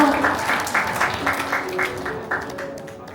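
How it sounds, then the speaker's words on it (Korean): Wedding guests clap together, a lively burst of hands with a few distinct rhythmic peaks that gradually thins and fades toward the end. "박수 한번 주세요."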